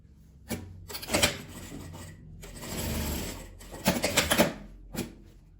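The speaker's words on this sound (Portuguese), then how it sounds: "Que eu vou dobrar e vou costurar." A sewing machine stitches folded fabric in several short bursts of rapid, whirring needle clatter, close by, separated by brief pauses.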